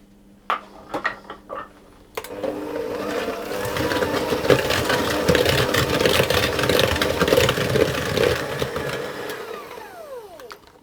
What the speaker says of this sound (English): I'm going to add in my egg and whisk that until that's combined as well.